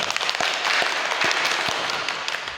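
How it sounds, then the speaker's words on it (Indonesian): An audience claps at a university academic advising session, a dense, steady patter of many hands filling the whole short stretch at even loudness. "Aplaus untuk kita bersama."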